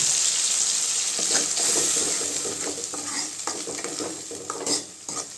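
Ground tomato sautés in a pan for an aayila mackerel fish curry, a loud close sizzle broken by repeated scraping strokes of a spoon stirring, with no talk.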